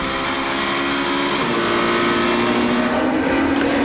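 WTCC touring cars, a Chevrolet, a Seat Leon and BMWs, race past at Brno, a loud continuous engine roar that holds steady and swells slightly as the pack crosses the line, with no voices.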